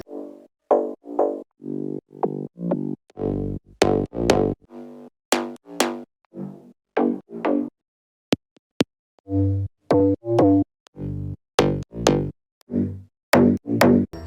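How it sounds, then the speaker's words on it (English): Serum preset bass synth notes with echo and compression, a series of short punchy tones with varied pitches and brief gaps, played alone without talk. "For the bassline I use a few serum presets from my pack."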